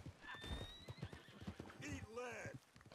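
A horse in the Red Dead Online video game clip-clops and neighs with a rising whinny, loud and close, while players talk over it.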